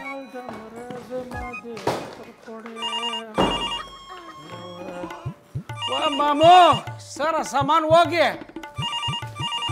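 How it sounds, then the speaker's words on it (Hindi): An old-style telephone rings in repeated electronic trills, loud and close indoors in a television comedy scene, with voices talking over and between the rings and a few thumps. "भाई यार फोन बज रहा है"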